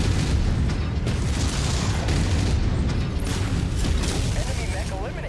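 Missile explosions rumble and burst in MechWarrior 5: Mercenaries during a fight against a Vindicator mech, a continuous loud barrage of booms and debris with a voice speaking over the battle.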